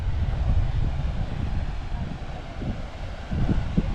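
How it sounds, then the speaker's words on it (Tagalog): Strong wind gusts buffet the microphone at Newborough nature reserve, a loud, low, uneven rumble that swells and eases in waves, with no voices. "kasi medyo malakas yung hangin dito"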